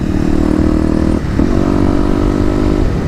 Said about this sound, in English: we're gonna get the bike warmed up a bit, and then we'll get on the highway a little bit further down